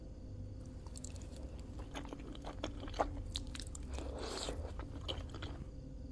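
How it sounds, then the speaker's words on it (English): In the video game Fears to Fathom: Ironbark Lookout, a character chews food with steady, wet crunching and squishing bites over a constant low background hum. "Keep munching."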